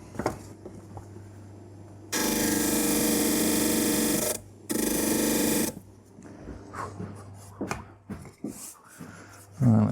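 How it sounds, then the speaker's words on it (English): A disc sander whines loudly as it sands the ends of a wooden gate piece, two bursts of roughly two seconds and one second, followed by quieter handling clatter and knocks. "So I'll just take this over to my disc sander and just touch the ends"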